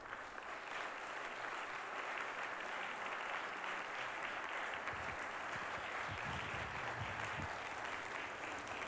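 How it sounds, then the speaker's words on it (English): A conference audience at the 2015 Eagle Forum of California State Conference applauds with steady, fairly faint clapping that sounds somewhat distant and continues evenly throughout, with a few low thumps near the end. "Please give him applause."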